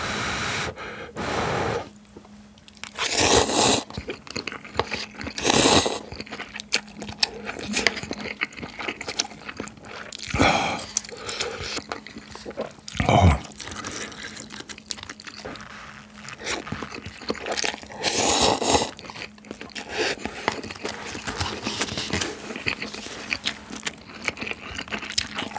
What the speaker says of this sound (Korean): 아, 고기랑 먹어보자.